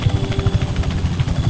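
Helicopter in Just Cause 3 whirs with a steady rotor thump and low engine drone, loud and close throughout, with no talking.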